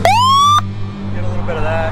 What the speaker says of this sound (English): And my air horn is right here. So if we tap it forward,